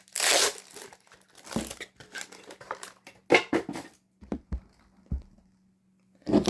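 Tape ripped and crinkled off the packaging of a Beyblade X L-Drago 1-60F top, close-up sharp tearing and crumpling bursts in irregular bunches separated by short quiet gaps.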